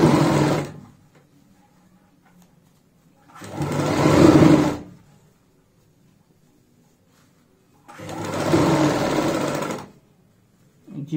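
A sewing machine stitches a homemade travel bag in three loud bursts of a couple of seconds each, separated by quiet pauses.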